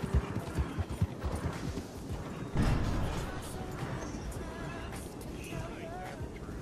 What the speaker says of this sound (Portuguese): Esse cavalo aqui é um dos mais rápidos que tem no jogo